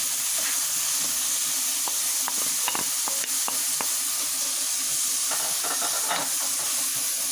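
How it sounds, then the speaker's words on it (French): Onions, garlic and parsley sauté in olive oil in a pan for chicken steamed Moroccan-style, giving a steady close sizzle with scattered crackles and light stirring scrapes throughout. "Fait revenir les oignons. Je rajoute l'ail et la persil cornade."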